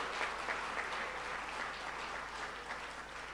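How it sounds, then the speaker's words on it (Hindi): Steady audience applause at an Independence Day special stage show, dense and continuous clapping from a large crowd throughout, with no voices standing out. "जोरदार तालियां बजाइए"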